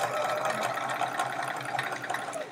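A sewing machine runs steadily while stitching rows of chevrons on a quilt, giving a fast, even mechanical whir with light rattling, fairly close and with no talk.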